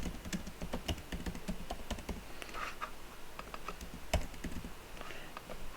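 Someone types a class name on a computer keyboard, a quick run of close key clicks that slows to scattered taps, with no talking.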